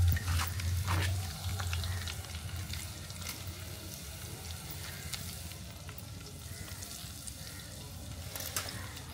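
Garlic, cumin and whole spices frying in oil over a village wood-fire stove for mutton, giving a steady, close sizzle with a low rumbling hum beneath it and occasional crackles throughout.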